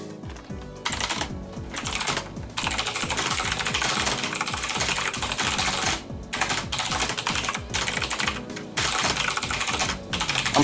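Fast, continuous clatter of keys on a computer keyboard, close and fairly loud, with brief pauses between runs of typing and a low hum underneath.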